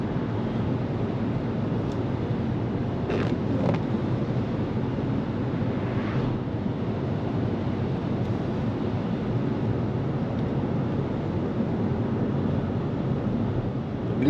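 Volkswagen Golf GTE 1.4 plug-in hybrid with DSG gearbox on a road test, giving a steady, quiet low rumble of tyres and wind inside the cabin, with no engine roar and a few faint ticks.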